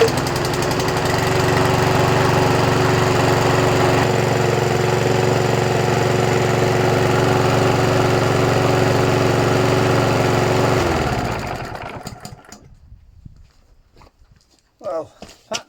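A discarded petrol lawn mower engine, pulled from a tip, runs after a pull start with a steady loud droning putter, then cuts out and winds down, leaving quiet with faint handling noises.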